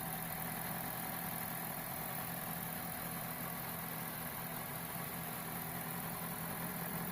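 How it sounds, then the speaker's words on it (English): A 2000 Toyota Celica GT with a recently rebuilt engine idles steadily while warming up, a constant mid-pitched engine hum with faint vibration running unchanged throughout, close to the microphone and with no talking. "As you can see, the car is being warmed up."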